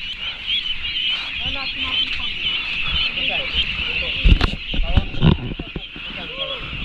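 Young ducks on a farm on a rainy morning give repeated quacks and honks under steady hissing rain, with people talking nearby.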